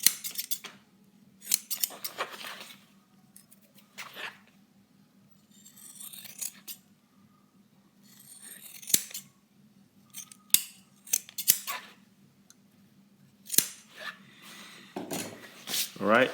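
Scissors snip through excess leather at the toe of a pump shoe, with a series of short, crisp cuts scattered between pauses and faint rustling, close by.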